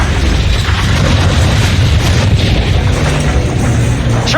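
Heavy ship cannons boom in an Assassin's Creed III naval battle, a loud dense rumble of overlapping blasts and low explosions rolling continuously without pause.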